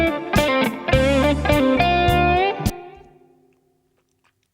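Electric guitar solo played through a reverb plugin: a few loud sustained, bending notes with effects, fading into a reverb tail and then silence.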